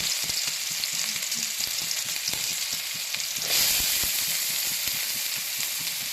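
Chopped onions dropped into hot oil for egg rice, a continuous bright sizzle and crackle of frying with a surge in intensity partway through, then steady bubbling and no talking.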